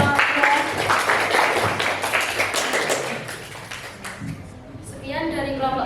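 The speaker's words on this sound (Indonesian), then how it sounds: "Tepuk tangan untuk kelompok 3." A class of students applauding a group after its presentation: dense, loud clapping from many hands for several seconds that thins and fades out near the end, with voices talking over it.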